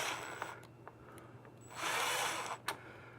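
A power drill whirs in short bursts at a workbench, near and moderately loud, with a longer steady run in the middle and small clicks and knocks between spins.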